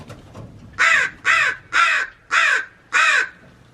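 Magpies call in a backyard aviary: five harsh, caw-like calls in an even rhythm, loud and close, with quiet gaps between them.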